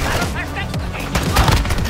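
Gunfire in the Warzone 2 DMZ video game: several sharp, close shots crack out at irregular intervals over a dense, noisy game background.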